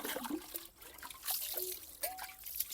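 Tap water trickling and splashing at low volume on a cold, rainy morning, with small clinks and scrapes of dishes being handled.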